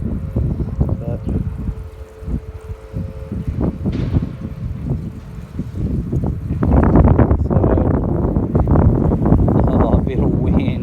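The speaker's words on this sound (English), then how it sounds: "Got a bit of wind here." Strong outdoor wind roars and buffets the microphone while a Japanese white pine is repotted and watered, with someone talking through the gusts, which grow louder in the second half.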